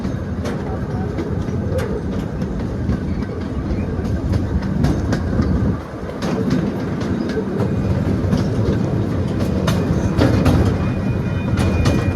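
A miniature ride-on train rolls along its rails with steady, loud rumbling and rhythmic clickety-clack of wheels over track joints, briefly dipping midway before carrying on continuously.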